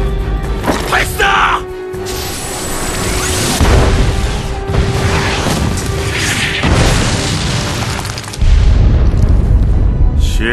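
Cannon fire in an Aion video game cutscene, several deep booming blasts with rumbling tails over layered effects and orchestral sound, with a voice shouting between shots.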